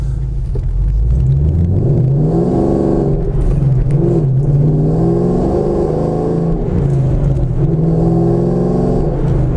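A modified 2014 Shelby GT500 roars loudly as it accelerates, its deep engine rumble climbing through rising pitch sweeps between gear changes, heard close and continuous without talk.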